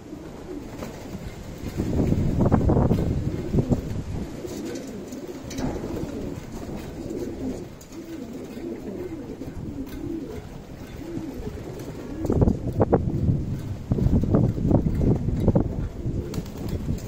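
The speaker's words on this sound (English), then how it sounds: "I got a wild rock pigeon" Wild rock pigeons coo repeatedly outdoors in soft, throaty bursts that come and go. The sound is moderately close, with background noise and rustling throughout and no talking.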